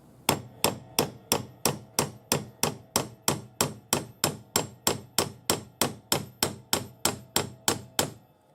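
Steady, rapid hammer blows on a thick silver ring blank being forged, about two dozen crisp metallic taps in an even rhythm, close and loud, alone without talk.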